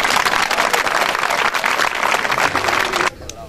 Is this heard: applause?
yes